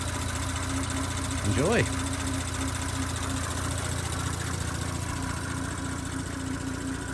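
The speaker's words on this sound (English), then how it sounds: "It's really just the high pressure fuel pump and the injectors." A 2018 Audi B9 S5 with the EA839 3.0-litre turbo V6 idles steadily, a continuous hum with a fine mechanical tick from the high-pressure fuel pump and injectors, close and even throughout while a voice speaks briefly.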